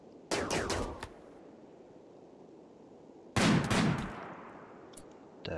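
Two bursts of rapid gunfire from the RimWorld video game crack out, each a quick cluster of sharp shots, separated by a quiet gap. A few faint pops trail the second burst.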